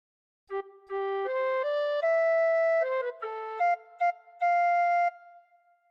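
A tin whistle plays a short melody from Home on the Range in clear, breathy held notes, stepping up and down in pitch, solo and close.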